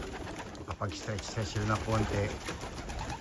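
Racing pigeons at their loft coo in soft repeated low-pitched phrases while someone talks over them close by.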